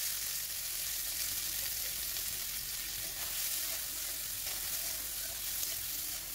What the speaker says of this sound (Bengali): ঘিটা গরম হয়ে গেলে কিছুটা পরিমাণ কাজু কিশমিশ আমি হালকা করে ভেজে নেব।